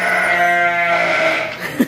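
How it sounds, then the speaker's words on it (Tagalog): Goat at Edmonton Valley Zoo bleating once in a long, wavering, nasal call close by, followed by a brief soft thump and no talk. "Hi, goat."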